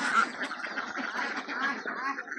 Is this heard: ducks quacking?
yes